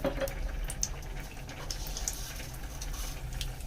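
Mustard seeds sputtering in hot oil for a tempering, for a Telugu gongura and chana dal curry, giving a faint, steady crackling sizzle with scattered small pops throughout.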